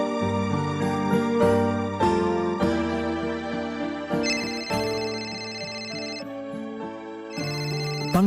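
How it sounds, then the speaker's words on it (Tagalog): An incoming call rings on a mobile phone as a melodic ringtone that plays continuously and clearly, with repeating tonal phrases and no voices over it. "Pang-5 beses na yung tawag ni Ara"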